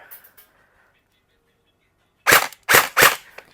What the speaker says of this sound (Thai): แล้วก็ยิงต่อ ลงมาเซมิ